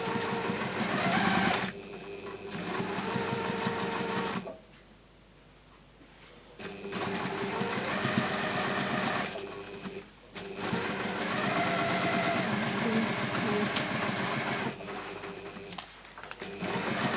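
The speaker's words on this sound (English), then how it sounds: "So I'm sewing it onto the large square with the 2 small squares." A sewing machine stitches a fabric strip onto a large square in close, steady runs of rapid needle chatter, separated by brief pauses.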